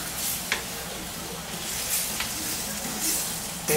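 A chicken mixture in red wine and cream bubbles and sizzles in a pan with a steady moderate hiss as it is stirred, with a few soft clinks and scrapes.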